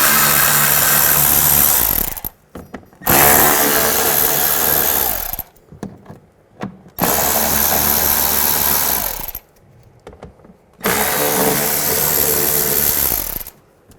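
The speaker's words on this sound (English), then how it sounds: "use a T25 socket and take out these screws" A powered T25 socket driver backs panel screws out of a 2005-10 Volkswagen Jetta, whirring in four loud bursts of about two seconds each, with short quiet pauses and faint clatter between them.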